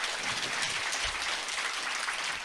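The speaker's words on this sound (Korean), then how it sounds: "모두를 위하여서 박수로 함께 하겠습니다" A church congregation at a revival gathering applauds together, a steady, even roar of many hands clapping, moderately loud and unbroken throughout.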